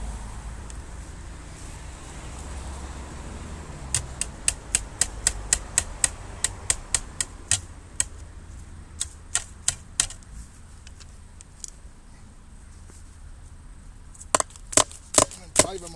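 A hammer drives staples into a wooden strainer post while fitting a Draper wire tensioner outdoors: a quick run of sharp, evenly spaced strikes, a pause, a few more, then a final close cluster of loud blows.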